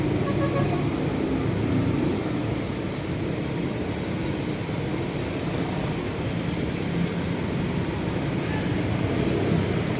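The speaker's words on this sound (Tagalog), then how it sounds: "mag-alas 11 na pero ganyan pa rin ka-hitik yung traffic" Dense late-morning road traffic near a bridge in Metro Manila makes a continuous broadband roar and engine rumble, with no distinct single vehicle standing out, steady and loud throughout.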